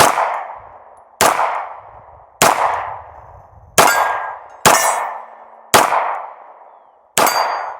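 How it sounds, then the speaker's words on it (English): Seven loud, evenly spaced shots from a Walther P38 pistol, each a sharp crack followed by a ringing decay, with no talking between them. "Let's go ahead and take a few shots, see if we can finish this one off."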